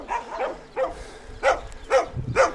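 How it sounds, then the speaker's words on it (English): Several dogs bark at a passing cyclist on a road, a run of sharp, fairly close barks in uneven bursts with short gaps between them. "Dogs!"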